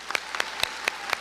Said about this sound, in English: so let's give them